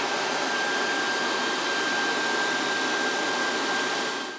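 Steady broadband whir of the cooling fan on an Air Venturi Nomad II air rifle compressor, running continuously and close with a faint high whine, no talking.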